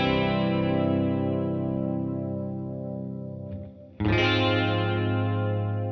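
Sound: electric guitar through effects

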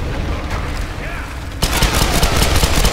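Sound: pistol gunshots in video game Tomb Raider

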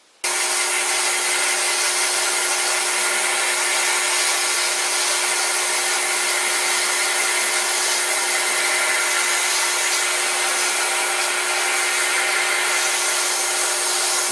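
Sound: lathe turning metal backing plate, removing material

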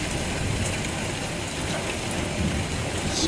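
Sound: rain and thunderstorm

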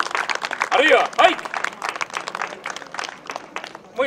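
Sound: audience applause

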